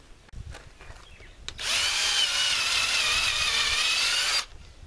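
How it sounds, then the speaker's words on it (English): A power drill with a 21/64 bit bores into a log to make holes for shiitake mushroom dowels. A few faint clicks come first, then a loud, steady, high whine runs for nearly three seconds and stops abruptly. "And we had to drill the log."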